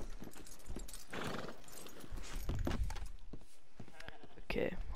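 Rhythmic clip-clop of horse hooves with occasional snorts in the video game Red Dead Online, mixed with game sound effects and a voice talking over it.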